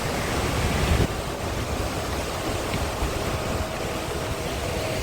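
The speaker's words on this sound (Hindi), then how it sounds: "ये यहाँ पे कोई झरना या नदी निकल रही है।" Water rushes steadily from a waterfall or river on a bamboo trek in Meghalaya, a dense, constant hiss and roar that is close and loud, heard alone without voices.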